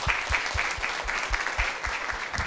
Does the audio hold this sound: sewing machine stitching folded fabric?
no